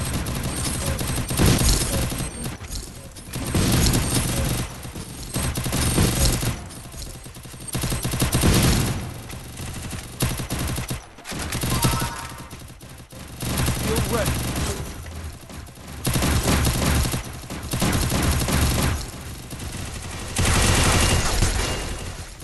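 Free Fire game gunfire in dense, repeated bursts through a long stretch, loud and busy, with short pauses between volleys and a voice talking over parts of it.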